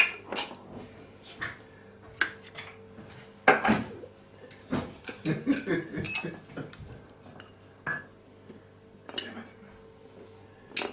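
Whisked eggs and flour are stirred in a bowl with a metal utensil, irregular clinks and scrapes against the dish, close and fairly quiet, with people talking intermittently around it.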